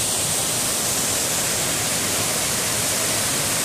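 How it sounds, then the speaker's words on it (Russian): A waterfall in the jungle at Ba Ho gives a steady, unbroken roar of rushing water that fills the air evenly from start to end, with no voices. "Тут кругом водопады."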